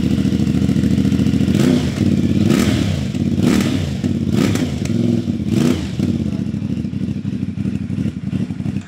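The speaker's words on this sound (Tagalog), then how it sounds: "Sound check. CF Moto 450 MT. Stock." A stock-muffler CFMoto 450 MT motorcycle engine runs loud and close, idling with a throbbing twin-cylinder thrum and blipped up in several short revs, each rising and falling back, with no talk.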